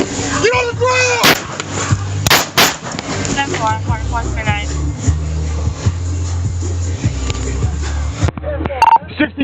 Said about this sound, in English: 1619, shots fired, shots fired.